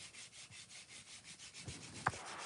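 Quiet, rhythmic rubbing strokes of sanding on clay pots, repeating steadily about four times a second, with a small knock near the end.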